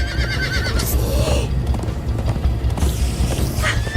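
Horses gallop and whinny in Minecraft Story Mode, with loud rhythmic hoofbeats pounding throughout, a couple of high neighs rising over them, and creaking mechanical game sounds mixed in.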